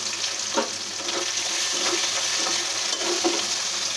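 Onions frying in oil with cardamom, cinnamon and bay leaf for a chicken curry, a steady close sizzle with a few soft stirring scrapes, no voices.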